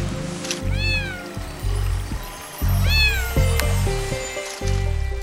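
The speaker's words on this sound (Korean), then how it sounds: "다람쥐 굴 앞에 선 고양이." A cat standing at a squirrel's burrow meows twice, clear and close, with soft rustling and outdoor ambience between the calls.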